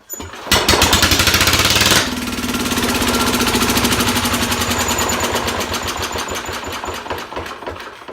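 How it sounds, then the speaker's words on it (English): Small engine on an older Roper RT10 garden tractor or similar, firing on the first rope pull after fuel is dribbled into the carb throat, then running loud and steady with a rapid, rattling exhaust beat close by. "I'm going to give it a little tug on the rope pull start there and see if she fires."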